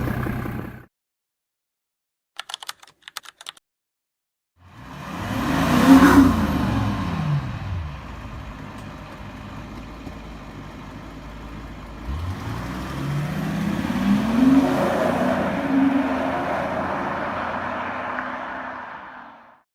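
An old Mercedes-Benz diesel engine runs close by in two loud bursts, each swelling from a low idle clatter into a rising rev and then settling, with brief quiet before the first.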